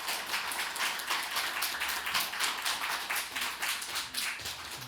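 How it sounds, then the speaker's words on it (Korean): A church congregation at a Sunday service applauds to welcome a visiting missionary to the front, a steady wash of many hands clapping, somewhat distant and soft. "우리 박수로 함께 영광 올리겠습니다."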